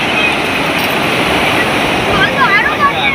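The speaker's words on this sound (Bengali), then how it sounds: "মশায় ঢেউ উঠছে, দেখো হু করে কোথায় চলে গেল" Sea waves wash onto the beach at Shankarpur in a continuous loud rush, with wind buffeting the microphone and a slight swell of surf near the end.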